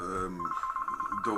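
A phone rings during a talk-show debate interview, a steady trilling electronic tone pulsing rapidly for about a second, nearby, bracketed by a voice before and after.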